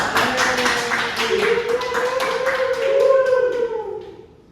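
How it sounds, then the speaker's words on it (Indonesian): A university classroom group claps in a loose burst of individual hand claps while voices call and whoop over it, the noise swelling and then fading away. "Oke, beri tepuk tangan dong."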